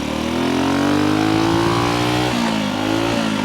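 A vintage 1964 Honda C200 motorcycle running a lap, its small engine droning steadily and rising in pitch, then dropping through a shift change before climbing again, loud and close throughout.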